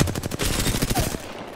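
Rapid automatic gunfire in Apex Legends, a fast rattling burst of shots lasting about a second, loud and close, then cutting off.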